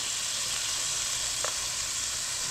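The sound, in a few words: reconstituted onions sautéing in olive oil in a pan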